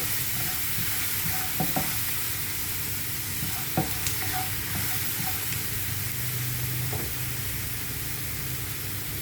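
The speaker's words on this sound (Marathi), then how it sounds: "कांदा टाकते आहे परतवण्यासाठी" Onion sizzling steadily in hot oil in a pan for prawn pulao, with a loud constant fry hiss broken by occasional scraping stirs of a spoon.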